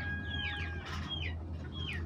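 An Australorp hen clucks on a farm: a few short, rising and falling calls come one after another over a steady low hum. The calls are faint, and no one speaks.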